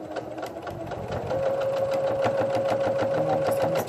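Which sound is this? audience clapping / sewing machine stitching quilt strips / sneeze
sewing machine stitching quilt strips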